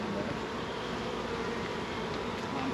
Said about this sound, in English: These bees over here, the hive was just here, so these bees are all coming back looking for it.